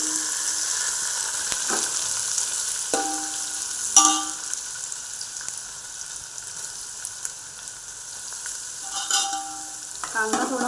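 Onions frying in hot ghee and oil with whole spices and curry leaves for matar pulao, a steady close sizzle with a few sharp stirring scrapes and clicks, no voices.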